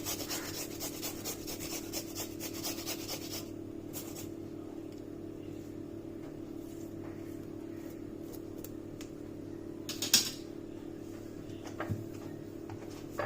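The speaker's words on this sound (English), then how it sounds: "Grate some ginger." Fresh ginger rubbed over a kitchen grater makes a rapid rasping scrape, close and continuous for the first few seconds, then giving way to a low steady hum with a couple of faint knocks.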